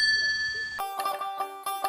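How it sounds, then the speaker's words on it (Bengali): A phone rings with an incoming call: after a quiet start, a bright repeating electronic ringtone sounds clearly and close, in pulsing bursts. "ফোন ঢুকায় দিচ্ছে"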